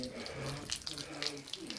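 Filtered spring water pours into a bucket, a soft, close trickle and splash with bubbly gurgles, faint and steady throughout, with low murmurs in the background.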